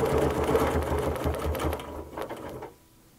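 A sewing machine runs at a steady loud hum while quilting a circle on an I Spy bubble-style quilt, then slows and stops near the end.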